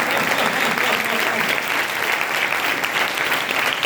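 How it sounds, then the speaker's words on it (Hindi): An audience claps steadily and densely throughout at a religious gathering, a full, even wash of applause with no breaks. "हाथ बजा दो ताली।"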